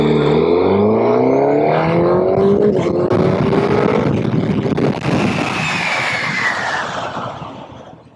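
A 2025 Suzuki GSX-S1000GX sport-touring motorcycle on local roads near Charlotte makes a hard 0 to 60 run, its engine note climbing through rising gear pulls, loud and near, then easing off and fading as it brakes back to a stop.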